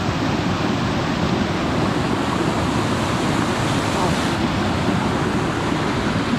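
Fast, high river water roars steadily in a broad, unbroken rush, a dense close wash of turbulence over large boulders with no pauses.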